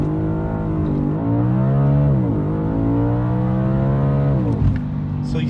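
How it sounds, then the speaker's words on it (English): Audi B8 RS5 engine holding high revs at launch control, then surging through rising gear pulls as the tires spin, loud and close throughout. "So this is the first launch technique, just off the launch control."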